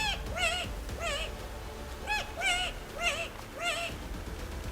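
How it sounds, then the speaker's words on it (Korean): Calls of the extinct laughing owl of New Zealand, a series of rising and falling nocturnal cries repeated about five times at an even pace, moderately near over faint background noise. "밤이 되면 숲속에서 사람 같은 기괴한 울음소리를 냈는데"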